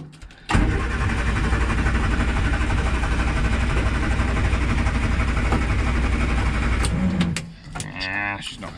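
A 1967 Morris Minor's fuel pump runs as a loud, steady mechanical drone held for about seven seconds, then cuts off, followed by brief clicks and a short voice.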